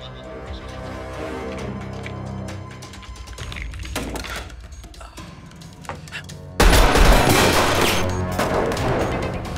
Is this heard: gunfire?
yes